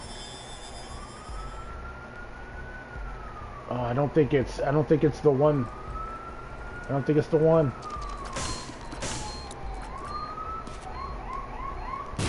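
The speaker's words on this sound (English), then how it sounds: "I hear sirens." A wailing ambulance siren sweeps up and down in the background of The Binding of Isaac: Repentance game soundscape, with a voice speaking briefly over it and some sharp bursts.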